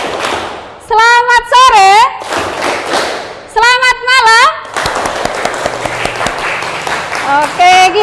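A school class claps hands in a fast rhythmic pattern, sharp clustered claps alternating with loud sung chanting of greetings by the group, all close and energetic.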